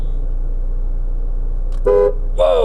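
Horn of a 2015 Ford Transit Custom van gives two short, loud toots near the end, the second slightly longer, over a steady low engine idle hum.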